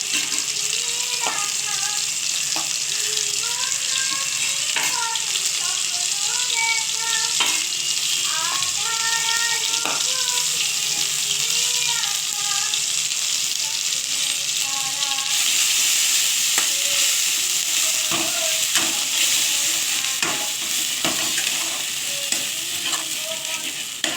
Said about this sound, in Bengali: দেখুন তেলটা গরম হয়ে গেছে, পোস্তটা আমি তুলে দিচ্ছি